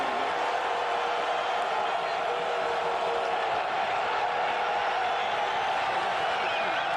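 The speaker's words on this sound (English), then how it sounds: "Crowd appreciating the defensive performance so far." Stadium crowd at a 2010 UFL football game between the Sacramento Mountain Lions and Omaha Nighthawks, a broad steady roar of cheering that stays loud and even throughout with no clear breaks.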